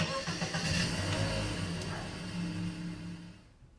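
A car engine pulls away under acceleration, a loud rumbling rise that gradually fades into the distance over a few seconds.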